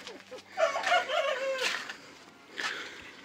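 Chickens in a coop cluck and squawk close by, with one prolonged crowing call and scattered shorter calls; a person speaks faintly underneath.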